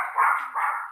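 A small dog lets out a short, excited bark that swells and dips over a second, close and fairly loud with no other sound around it.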